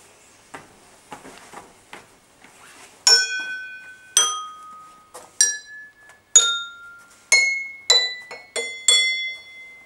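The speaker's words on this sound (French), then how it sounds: "on frappe sur le côté du verre" A glass is tapped on its side again and again, giving about nine bright, ringing clinks at an uneven pace, each decaying quickly, after a few softer taps at the start.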